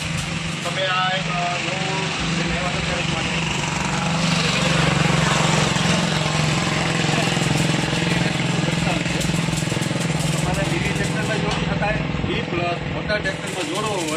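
A mini tractor engine runs with an automatic harrow on a farm, giving a loud, continuous buzzing drone that stays steady throughout while people talk over it.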